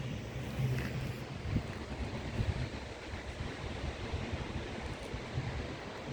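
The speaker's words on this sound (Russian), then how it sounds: "Это все тот же водопад Тобот." The Tobot waterfall in a mountain gorge in Dagestan roars with a steady, dense rush of falling water, loud and unbroken, with gusts of wind buffeting the microphone and no voices.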